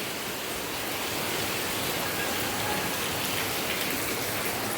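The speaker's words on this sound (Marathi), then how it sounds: "बाहेर पाऊस परत चालू झालेला असा" Steady rain falls outside, making a dense, even wash of patter that continues for the whole stretch with no voices.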